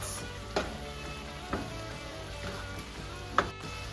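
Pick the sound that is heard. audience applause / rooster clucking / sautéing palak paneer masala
sautéing palak paneer masala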